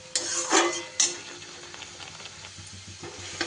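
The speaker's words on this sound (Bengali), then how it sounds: "একটু সময় এরকম নাড়িয়ে চাড়িয়ে দেখুন বেশ সুন্দর চাটনি কিন্তু আমার একটা রেডি হয়ে গেল।" Stirring Bengali pabda fish chutney in a pan, a few soft scraping and clinking strokes of a spoon against metal over a faint sizzle, close and fairly quiet, with no talk.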